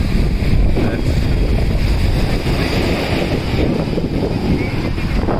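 Waves wash steadily onto Besant Nagar Beach in Chennai under heavy wind rumble on the microphone, a loud, continuous roar with surf swelling in the background.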